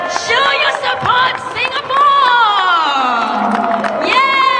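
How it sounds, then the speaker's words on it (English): A large crowd at a political campaign rally in Singapore cheers and whoops loudly and continuously, with high shouting voices rising and falling in a dense, sustained roar. "Can I hear a louder cheer, please?"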